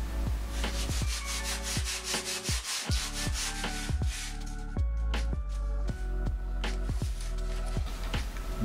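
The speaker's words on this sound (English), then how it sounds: "Sand the leading and trailing edges like this to shape slope profile for receiving the top" Leading and trailing edges of a foam wing for a P-47 Thunderbolt Razorback RC plane being sanded by hand, a close rhythmic series of rasping back-and-forth strokes, steady and unbroken by speech.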